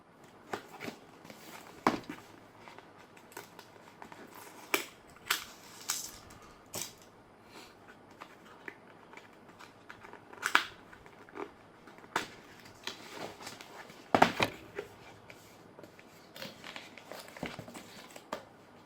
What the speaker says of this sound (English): So now let us unbox the keyboard first.